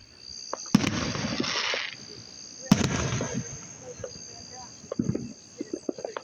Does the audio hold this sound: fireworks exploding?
yes